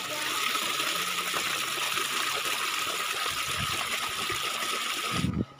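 River water rushing and trickling beneath a hanging bridge beside a forest village, a constant close broadband wash that runs unbroken before cutting off abruptly at the end, with no talk.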